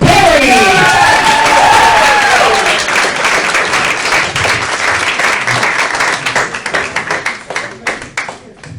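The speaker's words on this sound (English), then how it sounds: "Big round of applause for Jenna." Audience applause and cheering greet a comic at a stand-up night at a small playhouse: loud, dense clapping with whoops and a voice at first, then thinning into scattered claps toward the end.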